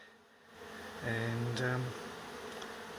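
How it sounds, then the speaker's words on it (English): A honey bee buzzes close by for about a second with a rising, droning hum during a beehive relocation, over quiet background noise and a brief spoken word. "A lot of bees building up on the windows"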